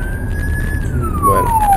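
A police patrol car or ambulance siren wails loudly over road and traffic noise. The pitch holds steady, then falls, suggesting the vehicle is moving past.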